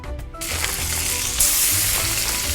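Pigeon legs and breasts searing in butter and oil in a pan, a steady close, loud sizzle and crackle of frying that holds throughout.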